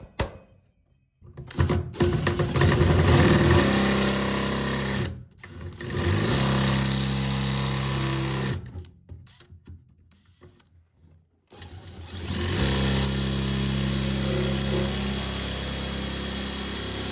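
An impact driver whirs and hammers against a stubborn bolt on a 69-year-old heating system. It comes in several long, loud bursts separated by short pauses and quieter handling noises.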